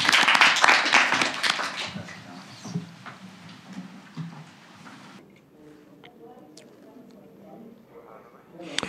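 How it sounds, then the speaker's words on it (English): Conference audience applauding after a panel discussion, a burst of clapping at the start that thins and fades within a few seconds, followed by quieter room noise and a voice starting to speak. "Have a round of applause."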